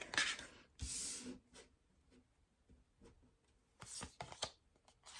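Oracle cards are shuffled and pulled, with soft, faint riffling bursts at the start and again near the end, separated by quiet light handling.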